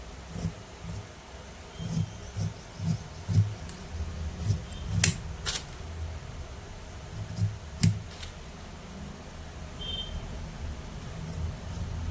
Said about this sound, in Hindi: तो मैं इसी को रख के काट देती हूँ।